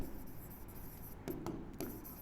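Something is written on a board, a faint scratchy stroke sound with a few short, sharper marks near the end over a low background hum.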